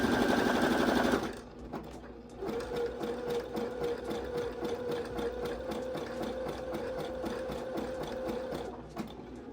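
A Brother CS5055 PRW computerized sewing machine stitches steadily, its rapid mechanical needle clatter running nearly continuously after a brief louder burst at the start, with the pace shifting between slower and faster passages.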